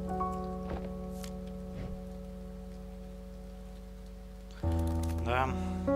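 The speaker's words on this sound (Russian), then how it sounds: "Да, там дождь." Steady rain in the pixel-art video game A Bird Story falls as an even hiss beneath a soft, sombre music track, with a brighter melodic passage rising near the end.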